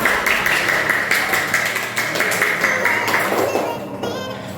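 Children in a classroom clapping in unison, a run of quick rhythmic claps with voices talking over and around them, fairly close and loud.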